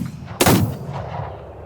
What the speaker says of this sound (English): 2 loud gunshots echoed off the surrounding buildings